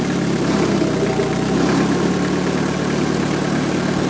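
Holder AM2 prototype engine running steadily at idle, a continuous low mechanical drone with even vibration, close and loud throughout with no talking.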